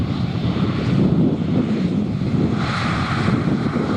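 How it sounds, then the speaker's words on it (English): Wizz Air Hungary Airbus A320 jet at London Luton on a windy afternoon, a loud, steady engine roar close by with a slight swell partway through, no talk. "It's a Wizzair Hungary Airbus A320."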